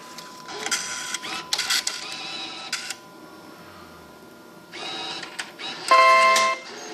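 A bill acceptor on an IGT S2000 slot machine draws in a $100 bill with bursts of motorized whirring and clicking, close and clear, followed by electronic beeps.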